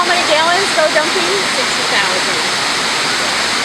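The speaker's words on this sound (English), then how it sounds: "so that's why we have this wave machine. It goes off every 90 seconds" At an aquarium, a wave machine dumps a large surge of water, producing a loud continuous rushing roar like a waterfall, with voices talking faintly beneath it.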